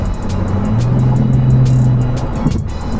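A Bentley GT with a W12 engine accelerating, a loud sustained engine drone rising and holding for a few seconds before easing off, heard from inside the moving car.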